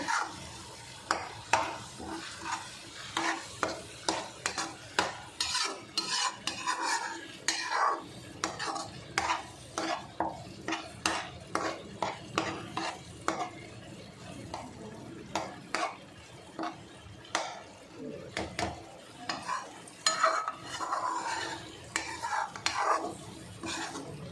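Raw masala for a corn capsicum curry stir-fried in oil, with rhythmic spoon scrapes and taps against the pan over a low sizzle, close and steady, no talking.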